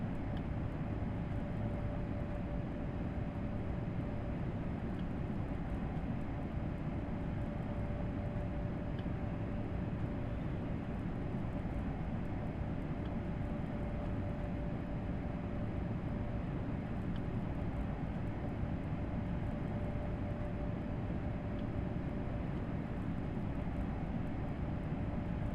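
A DB BR401 ICE 1 train accelerating at full throttle in Train Sim World 3, a steady, even drone of motor and rolling noise with a faint whine, continuous and unchanging throughout.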